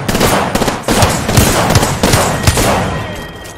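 Rapid bursts of gunfire from a first-person shooter video game crack loudly and close, in quick overlapping volleys with brief gaps.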